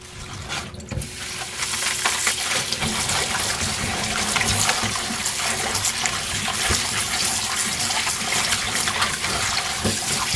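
Tap water runs steadily into a basin where salad vegetables are set to soak, a loud close rushing and splashing that continues without a break and with no voices.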